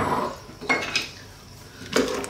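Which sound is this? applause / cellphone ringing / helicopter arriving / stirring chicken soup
stirring chicken soup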